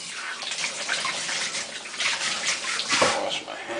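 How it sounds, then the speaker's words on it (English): Tap water runs steadily into a kitchen sink as hands are washed while baking peanut butter blossom cookies, a continuous close splashing rush with small surges throughout. "wash my hands real quick."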